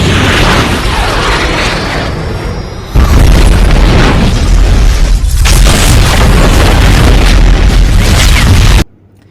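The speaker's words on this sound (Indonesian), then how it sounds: "roket meluncur dan terjadi ledakan dahsyat" A rocket launch and huge explosion in a film scene: a loud rumbling roar that cuts sharply into a heavy, sustained blast filling the space, then drops away abruptly near the end.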